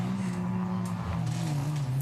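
Ford Fiesta junior race cars drone steadily around Cadwell Park circuit, a continuous engine hum with slight pitch shifts, heard from a moderate distance.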